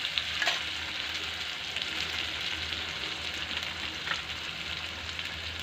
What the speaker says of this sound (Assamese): তেলখিনি গৰম হ'বলৈ দিলোঁ। তাতে মছলাখিনি ঢালি দিলোঁ।